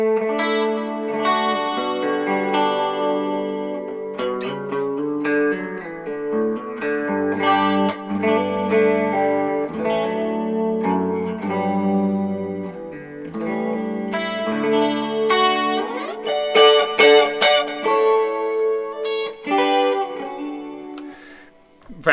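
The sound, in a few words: clean guitar patch on Boss GX-10 with effect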